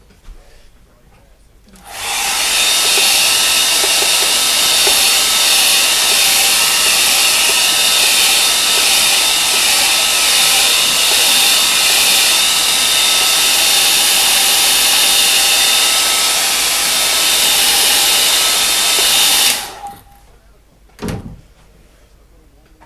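A hair dryer blows on a painting indoors, switching on with a sharp rise into a loud, steady whine that runs for about eighteen seconds before cutting off, followed by a brief clunk.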